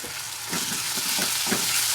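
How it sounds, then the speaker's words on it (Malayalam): Onion, tomato and green chilies sautéing in a hot pan, giving a steady, close sizzle with soft stirring scrapes throughout and no voices. "അപ്പോൾ അതുകൂടി ഒന്ന് നമുക്ക് ഇതിലേക്ക് ഇട്ട് നന്നായി വഴറ്റി കൊടുക്കാം."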